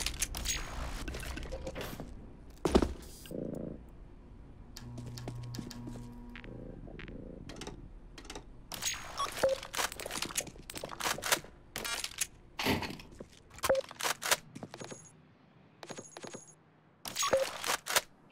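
CS:GO gameplay fitted with Half-Life sound effects: sharp gunshot-like bursts and clicks scattered irregularly over a low background hum, with a couple of short tonal blips and dense clustered shots near the end.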